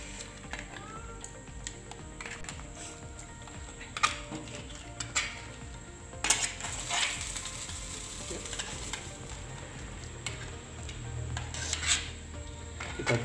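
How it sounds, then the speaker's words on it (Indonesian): Coconut milk is stirred into a crab curry simmering in a pot. A steady sizzling bubble runs under repeated scraping and clinking of a spoon against the pot, with occasional louder knocks. "Kita harus aduk supaya tidak pecah"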